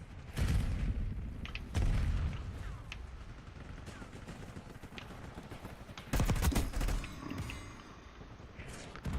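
Gunfire and a grenade blast from a Call of Duty Black Ops 6 match: sharp booms land around two and six seconds, with rattling shots and mechanical clatter between them, loud and close over the game's sound bed.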